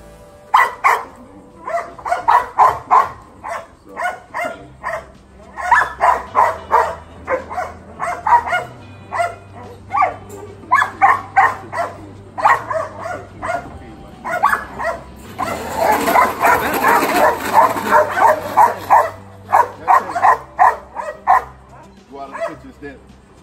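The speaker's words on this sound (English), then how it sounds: "Did you hear that one deep bark? Did you hear that one? That was the aggression bark." A protection-training puppy in a cage gives repeated yips and barks, one deep and aggressive, over a steady run of nearby human talk, with a rougher scuffling, growly stretch partway through.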